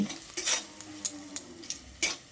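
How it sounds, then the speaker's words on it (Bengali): Spices, including Kashmiri chilli powder and salt, are stirred and sautéed with soybean in a pan. A spoon makes intermittent scraping and clinking strokes against the pan over a soft, low sizzle, up close. "সব কিছুকে একসঙ্গে নেড়ে চেড়ে মিশিয়ে ভালো করে কষিয়ে নেব"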